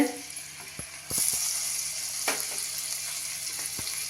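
Green chili hits hot butter in a pan while ragi soup is being made, and a steady sizzle swells at once, with a few soft knocks of utensils under a continuous frying hiss.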